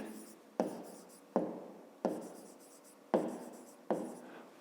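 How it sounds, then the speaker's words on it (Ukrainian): A pen writing on paper in five separate bursts of scratchy strokes, each beginning sharply and trailing off, close and quiet, with faint whispered speech in the background. "Ну і записуємо."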